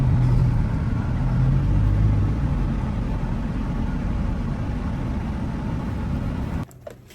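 Dubai street traffic rolls past as a continuous low rumble of engines, steady and fairly distant, fading slightly before cutting off near the end.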